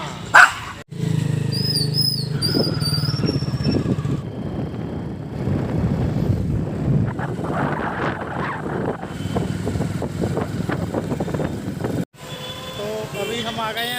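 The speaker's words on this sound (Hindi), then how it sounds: "भौंक रहा है और उस कुत्ते को भगा रहे हैं" Dogs bark and chase another dog outdoors during a roadside stop in India, the barking mixed with steady wind noise and a running vehicle, with people talking throughout.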